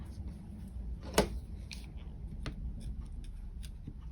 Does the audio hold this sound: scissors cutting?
yes